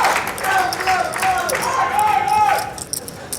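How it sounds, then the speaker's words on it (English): Poker fans of Cunningham at the 2006 World Series of Poker Main Event final table chant the 'oi, oi, oi' cheer in rising and falling voices, a rhythmic crowd chant mixed with clapping and commentary talk. "The Joe Hashem oi, oi, oi battle cry being stolen by some of Cunningham's fans"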